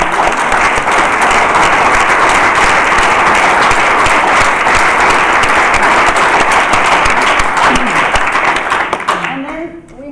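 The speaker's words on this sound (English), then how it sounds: "can we have a round of applause to everyone here?" Sustained audience applause fills a large hall at a conference's closing plenary, loud, dense and steady before fading out over the last second.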